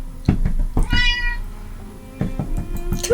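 A pet cat meows close by with one clear, drawn-out call. Soft knocks and handling noises come before and after it, and no one talks.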